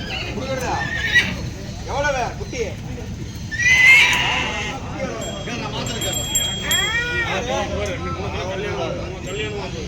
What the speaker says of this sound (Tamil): இது எல்லாமே குதிரை தான்